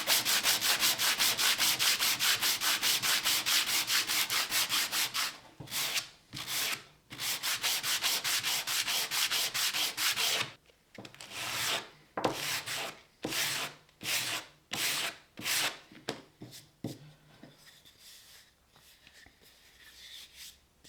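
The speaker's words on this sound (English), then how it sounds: "sand it lightly with some 120 grit, just to get rid of this double-sided tape residue" Hand sanding a wooden seat with 120 grit sandpaper to remove double-sided tape residue: close, steady rubbing strokes run continuously, then break into a series of short, rhythmic back-and-forth scrapes with brief pauses.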